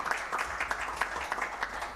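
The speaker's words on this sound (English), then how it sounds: "Another round of applause, ladies and gentlemen." Polite applause from an audience at a discussion event, a quiet, fairly sparse patter of clapping with individual claps audible, heard at a distance.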